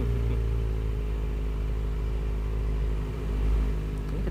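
Kawasaki ZX-25R fitted with an aftermarket exhaust, throttle released, settling into a low, steady, subdued idle rumble with no revving, heard close and alone for a few seconds.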